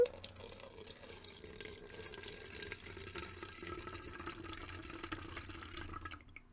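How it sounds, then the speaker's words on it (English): Liquid is poured into a funnel while cleaning a tumbler, making a quiet, continuous trickling pour that runs steadily for several seconds with no speech. "I'm going to pour this into my funnel"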